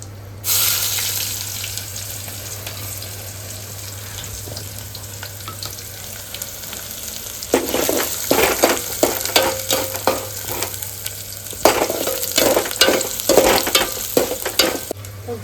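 Onions fry in a pan with mustard seeds and curry leaves, giving a steady sizzle with a low constant hum underneath, then louder bursts of stirring and crackling that come in uneven clusters toward the end.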